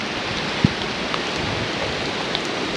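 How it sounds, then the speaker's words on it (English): Steady rain falls through Maui rainforest trees near Makawao, a soft continuous patter with a few distinct drops, no voices. "It's raining."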